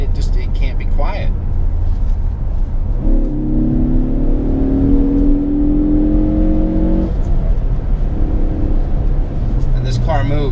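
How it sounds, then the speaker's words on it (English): A 2016 Ford Focus ST, a front-wheel-drive performance hatch, pulls hard with a rising engine note that builds for several seconds and then cuts off, heard close from the cabin while someone talks before and after the run. "when you jump into a Ford Focus ST like this, it sounds great"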